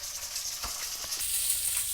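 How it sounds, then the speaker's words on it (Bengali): Dried chillies sizzling in hot oil in a pan, a steady soft hiss throughout with faint crackles, close and alone with no talking. "আর তার জন্য লঙ্কা ভেজে নিচ্ছি"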